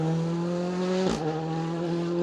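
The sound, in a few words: Ford Fiesta Rally2 rally car driving past on stage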